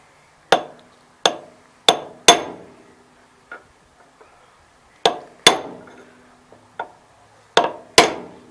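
On a 1988 Gravely 16G front PTO, a blunt chisel is hammered to drive in axle bearings: sharp metallic blows in spaced pairs and singles, loud and close, with quieter taps between.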